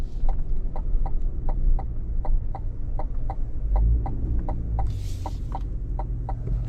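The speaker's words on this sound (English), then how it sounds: "Now for the turn signal sound." Turn signal on a Cadillac Escalade V ticks in a steady, even rhythm of paired clicks, close and clear inside the cabin over a low engine hum, with no talking.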